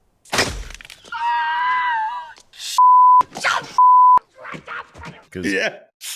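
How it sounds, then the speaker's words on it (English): Two short, loud censor beeps cut in over a stretch of swearing in a Home Alone scene, separated by a brief gap, amid shouting and a squeal. "I'm just going to beep it out"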